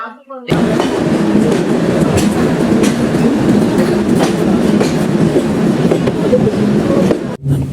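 The Sundarban Express train at Jessore Junction rumbles and clatters steadily throughout, with close, continuous wheel and carriage noise and faint voices beneath it.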